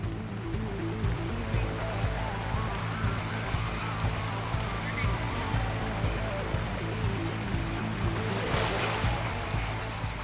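River rapids with surging water over slippery rocks during a river rescue, heard as a continuous broadband roar and rush that stays steady and close, with a brief brighter surge near the end.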